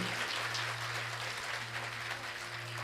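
Dense, steady applause from a large crowd at a religious katha gathering in Faridabad, clapping for the organising committee, continuous and loud throughout with no talk.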